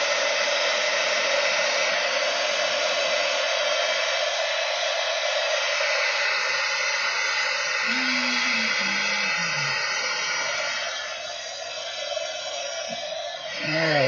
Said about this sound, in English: And now the old heat gun